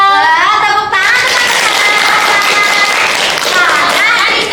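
Classmates in a school classroom clap their hands together, a loud, close burst of rapid clapping that starts after a brief voice and continues steadily, with a young voice speaking over it near the end.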